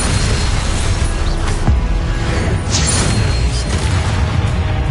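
Confringo explosive spell blasts in a Hogwarts video game, a dense, loud barrage of booming bursts and crashing debris with sharp pops that keeps going without any letup.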